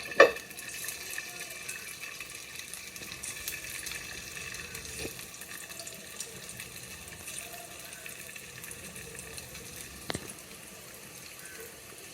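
Chicken pieces placed one at a time into hot oil for a cashew nut salad fry with a steady, fairly quiet sizzling hiss, broken by a couple of light clinks from utensils. No one speaks.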